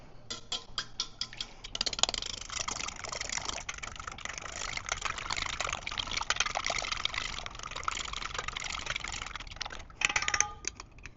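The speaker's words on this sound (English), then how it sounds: "let's whisk." Stuffing mixture is whisked in a bowl, a fast run of light clicking, tapping strokes against the bowl with wet, sloshing texture, close and fairly quiet, with a short pause near the end.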